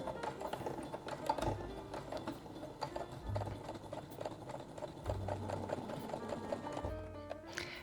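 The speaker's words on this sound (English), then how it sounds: "I start with some thread that I can hold on to and pull when I start sewing the strap." A sewing machine stitches a dress strap on a midi dress, with a rapid rhythmic mechanical chatter in several short bursts, moderately close, broken by brief pauses.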